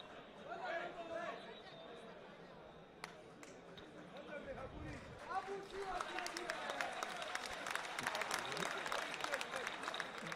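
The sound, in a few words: football fans applauding the Kano Pillars goalkeeper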